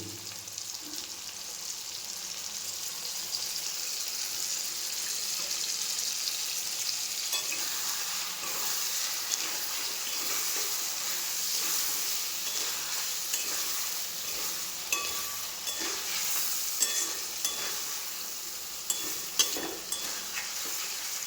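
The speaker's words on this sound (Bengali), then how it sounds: "পেঁয়াজটা হালকা ভাজা ভাজা হয়ে এসছে, এরপর দিয়ে দেবো হাতে বাটা আদা, রসুন আর কাঁচা লঙ্কা, এর পেস্টটা দিয়ে দেবো।" Lightly browned onions frying in a pan with hand-ground ginger, garlic and green chilli paste, giving a long, even, fairly quiet sizzle and hiss with scattered soft stirring taps and scrapes.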